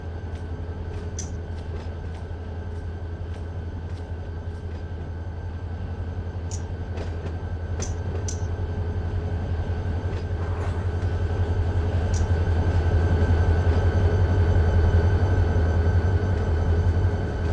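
A train in Run 8 Train Simulator backs slowly into coil cars, with a steady locomotive rumble, scattered metallic clanks and squeaks, and the noise building louder toward the end.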